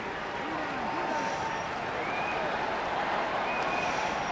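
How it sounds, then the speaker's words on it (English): A stadium crowd at the 2012 Kilkenny v Dublin Leinster senior hurling semi-final roars and cheers as hurler Tommy Walsh is substituted off, a dense, steady wash of distant cheering and applause with a commentator's voice over it. "big cheer for Tommy Walsh going off"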